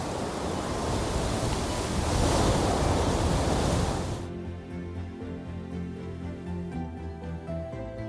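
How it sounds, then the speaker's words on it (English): Water roars from Iguazu Falls as a dense, broad rush that swells for about four seconds and then cuts to a quieter, more distant wash. "the sound of water echoes from afar, deep, dense, and steadily growing louder"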